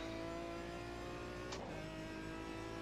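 Prototype GT race car in a racing video game at Sebring, a steady droning engine tone with a quick throttle blip partway through that briefly rises and falls, loud and continuous throughout.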